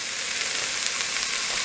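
Stew beef for Hungarian goulash browning in a pan, a steady close sizzle and crackle of frying meat heard alone.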